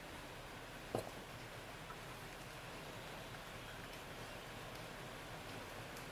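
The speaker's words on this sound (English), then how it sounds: "it's raining cats and dogs out there." Steady, dense rain patters outside, a continuous wash of noise with one brief knock early on and no voices.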